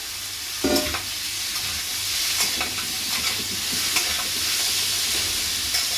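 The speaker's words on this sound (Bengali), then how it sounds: "চিংড়ি মাছটা দিয়ে দিয়েছি চিংড়ি মাছটা অল্প ভাজবে" Shrimp and arum stalks fry loudly in a pan, a dense continuous sizzle with repeated scraping stirs of a spatula throughout, close and with no voices.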